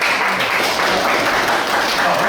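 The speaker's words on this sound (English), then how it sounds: "So let's give her applause for this." Audience applause fills a university lecture hall, a steady dense wash of clapping that holds evenly for a couple of seconds, loud and close, with no talking over it.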